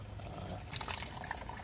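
Coolant water draining out of a Perodua car radiator during a flush, a steady close splashing trickle that grows busier and more broken midway, with no talk.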